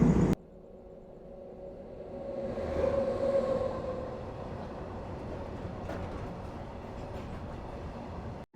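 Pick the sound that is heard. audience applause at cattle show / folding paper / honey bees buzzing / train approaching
train approaching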